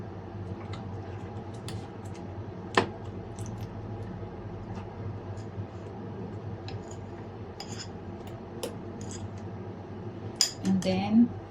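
A spoon mixes peanut butter with baking powder in a bowl for a no-flour steamed banana oatmeal snack, giving faint, scattered scraping clicks over a quiet murmur, with a few sharper taps near the end.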